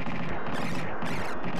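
Rapid, continuous ship gunfire blasts in Super Earth Defense Force on the SNES, a dense, loud stream of shots and explosions filling the whole moment without pause.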